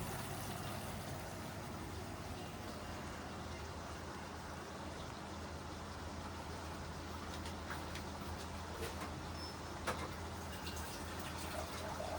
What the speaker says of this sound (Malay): Saya letak air 1 gelas ya, guys.